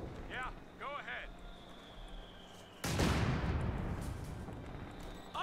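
Gunfire in Company of Heroes 2, a World War II strategy game, erupts as a sudden loud burst of shots and blasts that stays dense and sustained, following earlier chirping unit sounds and game voice callouts.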